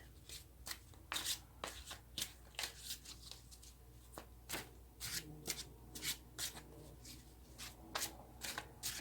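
Tarot cards being shuffled by hand, a quick irregular run of crisp riffling snaps and soft slides, close and fairly quiet, with no talking.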